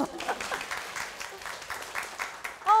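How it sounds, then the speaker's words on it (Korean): An audience at a real estate seminar gives a short round of applause, soft and somewhat distant, that lasts just under three seconds. "박수 한번 더."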